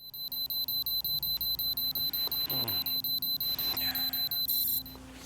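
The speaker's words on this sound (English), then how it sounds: "he actually turns his clock and sets a specific timer for when he should wake up, and you even hear that timer every time you do wake up" An alarm clock timer in the video game Metro Exodus rings on waking with rapid, regularly pulsed high beeps, loud and close. It ends in a quick burst of denser beeps before cutting off into quiet ambience, with faint background rustling.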